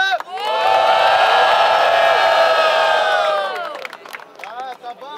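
A crowd at a Brazilian Halloween rap battle roars with loud, sustained cheering and shouting that fades into scattered yells and whoops.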